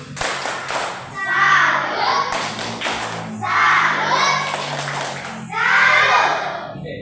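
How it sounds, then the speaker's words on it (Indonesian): Primary school children in a classroom clap in three patterned, rhythmic bursts, loud and close, with young voices mixed in between the rounds. "Bagus, tepuk tangan untuk dia."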